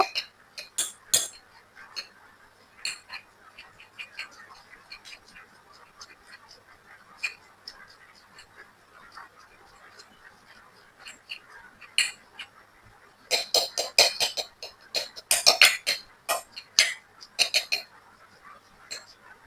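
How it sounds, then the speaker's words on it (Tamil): A metal fork clinks and scrapes against a bowl while mashing tinned fish for sambal, making sparse light taps at first, then denser rapid clattering toward the end. "நான் இந்த முள்ளுக்கரடியால எடுத்தோம்னா எங்களுக்கு நல்ல தூளா ஆக்குறதுக்கு இலகுவா இருக்கு"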